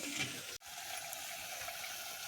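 Masala tempering for a bitter gourd gravy sizzles softly in oil, a faint steady frying hiss with one brief dropout partway through.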